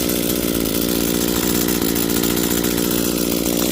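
An Echo SHC-225S hedge trimmer's small two-stroke engine runs steadily at idle, close and loud, with an unbroken buzzing drone and no voices.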